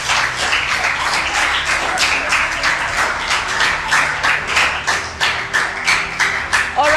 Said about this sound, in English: clap very well, everybody.